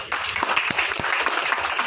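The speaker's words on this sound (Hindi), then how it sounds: "एक बार जोरदार ताली दीजिए।" Applause from an audience at a large meet-up event in a mall, a dense burst of clapping heard steadily for a couple of seconds, loud and fairly close, with a faint voice in the background.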